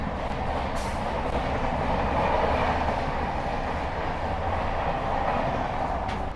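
A local passenger train on the Howrah to Puri run rolls along steadily, its dense rumble and rattle filling the whole stretch at a constant, close loudness with no voices.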